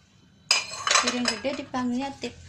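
Large plates handled in a kitchen clink and rattle against each other in a quick cluster of bright, ringing knocks, close and fairly loud, with no talk over them.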